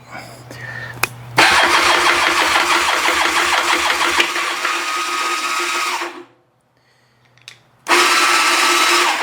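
A 1986 Honda Rebel 450 motorcycle engine cranks, catches and roars loudly for several seconds, cuts out briefly, then fires up again; the noise is close and harsh, with apparent loss of compression.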